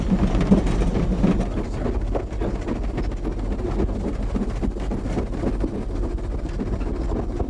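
A Vale of Rheidol Railway steam engine labours up a twisting, climbing narrow-gauge line. Its heavy rumbling chuffs and the rattle of the carriages roll on continuously and loudly, with some wind noise on the microphone.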